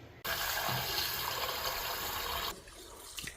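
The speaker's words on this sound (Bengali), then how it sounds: "তো দুধটা এখানে ঢেলে নিলাম।" Milk pours into a cooking pot for rice pudding in a home kitchen, a steady liquid rush lasting a couple of seconds before it cuts off and leaves faint kitchen clatter.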